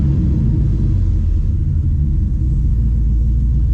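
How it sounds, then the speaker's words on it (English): An LS-swapped Chevrolet Colorado engine with a whining pump runs on a dyno as a steady, deep, close rumble without pause. "It's starting to whine a little."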